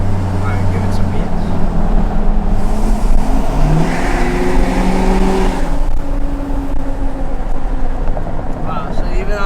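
A 2019 Ford F250 pickup truck on 28x16 wheels with 38-inch tires, its engine loud and steady as it pulls and accelerates, with rising tones partway through and a near, continuous drone; someone talks over it.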